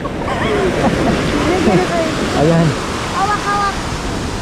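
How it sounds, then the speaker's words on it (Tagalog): Big ocean waves breaking on a beach in Puerto Princesa, Palawan, a loud continuous roar of surf and wind up close, with people talking over it. "Malaki ang alon."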